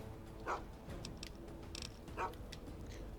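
Dogmeat, the dog companion in Fallout 3, gives two short barks a couple of seconds apart, moderately loud over a steady low game ambience, with small clicks in between and no speech.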